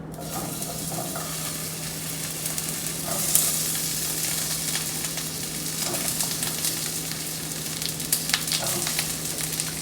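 Zucchini summer squash frying in hot oil in a pan, a steady continuous sizzle with occasional clinks and scrapes, loud and close with no voices.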